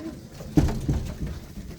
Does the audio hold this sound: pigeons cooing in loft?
yes